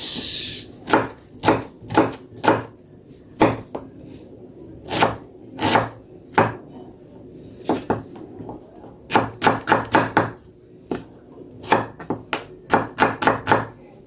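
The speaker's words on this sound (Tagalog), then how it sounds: "Slice na natin Kaili ang ating sibuyas." An onion is sliced with a knife on a cutting board, a long series of sharp, close knocks, some spaced and some in quick bursts of three or four, with quiet gaps between.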